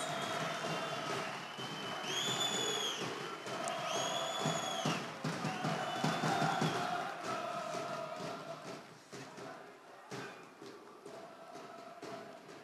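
A large crowd in an indoor sports hall applauds a municipal folklore dance team. The dense clapping is sustained and roughly even throughout, with tonal whistles or music rising above it early on.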